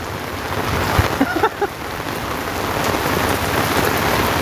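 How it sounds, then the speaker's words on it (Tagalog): Heavy rain patters across a surface in a dense, even hiss, with a few brief knocks early on and no one speaking. "hindi pa ganong kalakasan talaga yung ulan no?"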